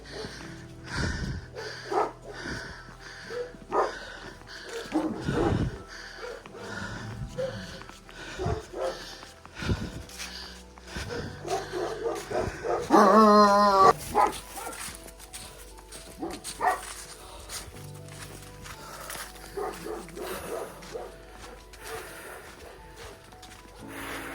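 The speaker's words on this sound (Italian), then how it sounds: "questi cani. Per fortuna sono chiusi." Several dogs bark repeatedly from behind a fence along a rural walking route on the Via dei Tusci in Italy, with yips and whimpers mixed in, fairly close and loud, while a voice speaks at times.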